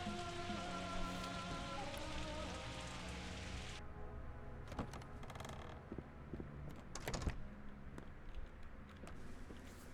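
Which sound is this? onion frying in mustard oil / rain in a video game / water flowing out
rain in a video game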